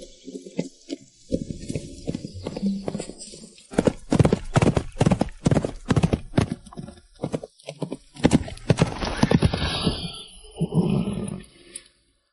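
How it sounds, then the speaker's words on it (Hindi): Horse hooves clip-clop steadily as the animal is ridden, a close, rhythmic clatter that runs through most of the stretch with a few snorts and whinny-like calls mixed in. "मेरे पास 2 पैर हैं और मैं घोड़े पर सवार हूं।"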